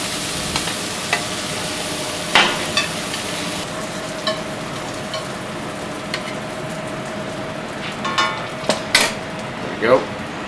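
Scallops sizzle steadily in a frying pan, with scattered clinks and scrapes of utensils against the pan as they are lifted out; a faint hum runs underneath.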